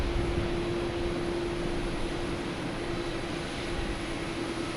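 A small Cape Air propeller plane on the runway at Boston Logan Airport, a steady loud engine drone with a constant tonal hum and broadband rush, unbroken throughout and no talking.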